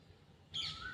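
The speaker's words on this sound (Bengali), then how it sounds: "শুনতে পাচ্ছ কোকিলের ডাক?" A single short bird call, a cuckoo at about six in the early morning beside a pond, rings out briefly against a quiet background.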